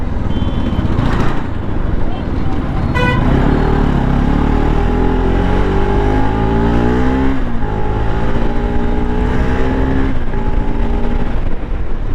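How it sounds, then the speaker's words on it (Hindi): A Bajaj Pulsar RS200 200cc motorcycle rides through city traffic, its engine droning loud and close throughout, rising and falling in pitch as it revs and shifts, with a brief horn-like tone early on. "मैं चाहूँ तो इस RS को बहुत ज़्यादा फास्ट भगा सकता हूँ इस टाइप की ट्रैफिक वाली कंडीशंस में भी"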